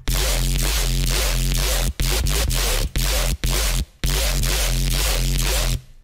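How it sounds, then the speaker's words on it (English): Stuca-style electronic synth bass played on its own, a loud, gritty, pulsing bass line in choppy repeated phrases with several sudden short gaps. "I'll play the bass all by itself."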